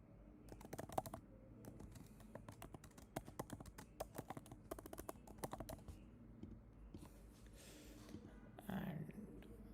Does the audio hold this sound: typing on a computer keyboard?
yes